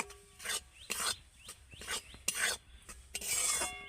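A spoon scrapes flour and besan as they roast in a pan for soan papdi, making soft, rhythmic rasping strokes roughly every half second, close and fairly quiet.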